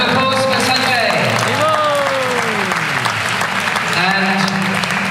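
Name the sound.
applause for Sanjay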